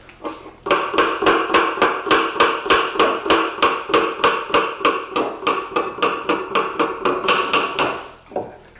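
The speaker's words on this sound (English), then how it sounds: "so I'll go the opposite way with the chisel." Hand chisel struck repeatedly by a hammer while carving a wooden beam to give it a distressed, century-old look: a steady run of about thirty sharp, close, loud blows in quick rhythm, ending with a pause and one final strike.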